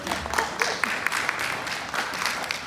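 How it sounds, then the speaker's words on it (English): Light applause at an alumni relations conference session as a University of Houston Clear Lake director is introduced; soft, scattered clapping from a small audience, fairly faint. "I'll applaud for Kendra"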